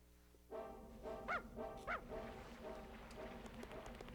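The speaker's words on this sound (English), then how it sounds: "Dog's already barking, man." A dog barks in Dragon Quest Builders 2, two clear yelping barks standing out over a steady game music and ambient backdrop, with softer whimper-like yips trailing after.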